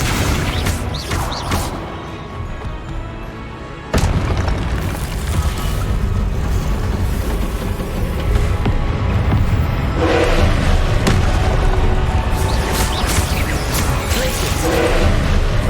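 Spell explosions from Confringo cast in the Hogwarts Legacy video game, dense booming blasts and crashing bursts running continuously and loudly over a busy game soundtrack, with a brief dip before the barrage resumes.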